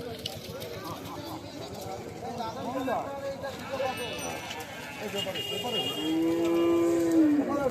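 Cows low at a busy cattle market where dairy cows are up for sale, with a long, clear moo near the end rising over a steady crowd murmur, shuffling hooves and people talking.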